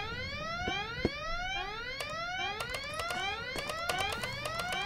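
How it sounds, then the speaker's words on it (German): Alarm in the video game Goodbye Deponia, a continuous rising whooping siren sweep repeating rapidly with clicking ticks, steady and prominent throughout. "Wieso wurde schon wieder dieser jämmerliche Alarm ausgelöst?"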